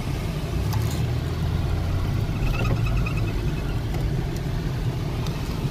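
A Chevrolet Blazer idles steadily up close with a low, even rumble, unchanging for several seconds and with no voices over it.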